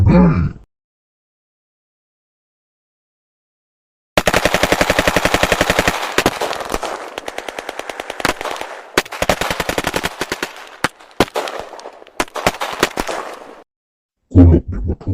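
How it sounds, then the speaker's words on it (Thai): Video game gunfire in a Predator match: rapid automatic bursts of shots, loud and close, after a short silence, with a voice briefly heard at the start and end. "งั้นขอควักปืนยิงมันเลย"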